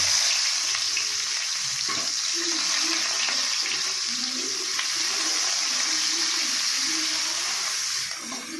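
Onions sizzling in hot oil with a constant loud hiss, faint clinks of stirring underneath, continuing evenly before tapering off.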